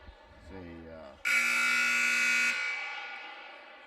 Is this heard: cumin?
no